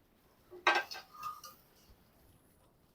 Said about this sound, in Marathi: आता आपण ही भेंडी प्लेटमध्ये काढून घेऊयात